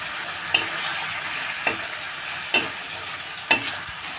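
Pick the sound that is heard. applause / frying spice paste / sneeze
frying spice paste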